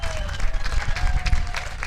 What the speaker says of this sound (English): Another round of applause for Franklin Zaski, Jesse Peterson